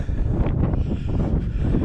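Outdoor wind buffets a microphone on a countryside walk near a farm: a continuous, loud, low rumbling roar with gusty fluctuations throughout.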